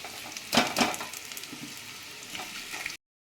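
Potatoes fry in oil in a pan, giving a close, continuous sizzle broken by two louder stirring scrapes early on and a few lighter clinks before the sound cuts off abruptly.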